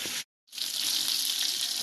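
Coral fish pieces fry in hot oil, giving a steady, close sizzle that cuts out for a moment and then resumes evenly.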